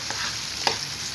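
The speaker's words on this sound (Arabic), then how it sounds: "بعمل معاكم بحمر الرز اهو" Rice is stirred and fried in a pot, a brief soft sizzle with a quick scraping stir near the end, close and quiet.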